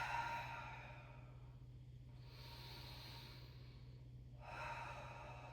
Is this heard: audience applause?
no